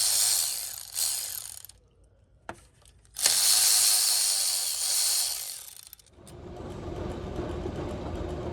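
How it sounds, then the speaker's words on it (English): A cordless ratchet with a 12mm socket removes bolts from a coolant-weeping thermostat housing on a 2004 Nissan Titan, giving loud bursts of whirring and ratcheting clatter with short pauses between runs. "So we're gonna pop that out using a 12mm and a cordless."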